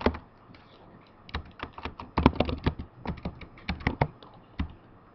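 Close, crisp computer-keyboard typing as Delphi code is entered: uneven bursts of clicky keystrokes with small gaps between runs, in a quiet room.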